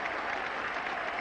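Test-match cricket crowd at England versus West Indies in 1984 applauding a batsman reaching fifty, a steady continuous patter of clapping heard alone.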